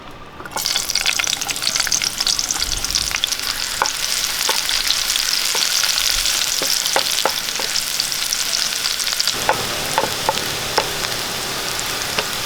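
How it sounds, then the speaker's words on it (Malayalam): Chopped shallots fry in hot coconut oil for a tempering, giving a loud, steady sizzle with scattered crackles and pops throughout, with no voices. "കുറച്ച് വെളിച്ചെണ്ണ ഒഴിച്ചു കൊടുക്കാം ഒരു നാല് ചുവന്നുള്ളി അരിഞ്ഞത് ഇട്ട് കൊടുക്കാം"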